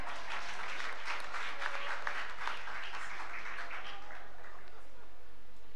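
An audience at a church feast celebration applauds, dense clapping that starts loud and gradually thins out over several seconds.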